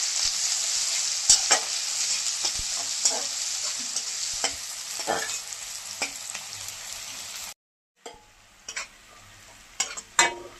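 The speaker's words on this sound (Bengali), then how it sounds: "তেলটা গরম হয়ে গেছে, এখন পেঁয়াজটা দিয়ে দিচ্ছি। পেঁয়াজটাকে একটু ভেজে নিচ্ছি।" Onions frying in hot mustard oil in a home kitchen, a steady loud sizzle with scraping stirs and clinks of a spoon, broken by a brief pause before the sizzling and stirring resume.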